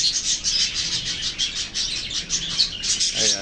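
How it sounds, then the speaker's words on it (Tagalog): Pet pigeons in a cage, some of them nesting on eggs, keep up a steady stream of soft chirps and calls that sound close by, with no voices over them. "Aking mga alagang kalapati at may mga nangingitlog na dyan."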